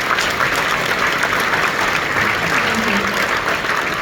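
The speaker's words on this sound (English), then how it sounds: "I think we should give a big round of applause to the volunteers" A gala dinner audience applauds the volunteers with loud, continuous, dense clapping that fills the room evenly from start to finish.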